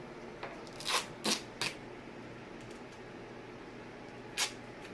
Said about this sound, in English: So I'm going to get my tape ready.